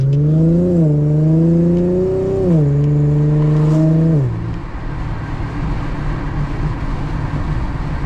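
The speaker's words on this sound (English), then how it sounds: "This little slight little pops, slight little burbles" A car engine hums steadily at close range, its pitch stepping up and down, then drops to a rougher low rumble with faint crackling exhaust pops and burbles in fourth gear.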